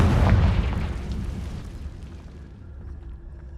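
A Confringo spell explosion in the Hogwarts Legacy video game: a loud booming burst at the start that rolls away into a fading rumble over a few seconds, with no talking.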